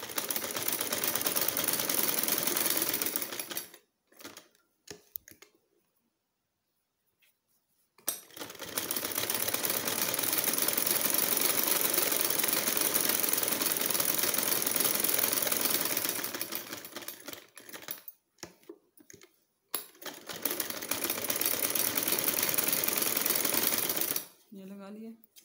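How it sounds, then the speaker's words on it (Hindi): A sewing machine stitches a gents' shirt cuff in long, steady, buzzing runs, stopping briefly between seams and starting again, close and loud, with a voice speaking in between. "पाँव के फासले पे सिलाई करेंगे।"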